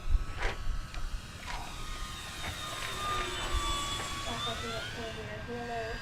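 Dynam Spitfire MK.VB floatplane RC model, 1200mm, flying a slow pass with partial flaps, its electric motor whine rising and bending in pitch as it goes by at a distance, while people talk over it.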